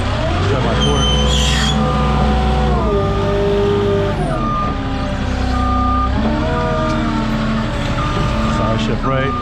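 A forklift's engine runs steadily while it maneuvers a load of lumber at a greenhouse, its drone shifting as it turns and moves, with a person talking over it throughout.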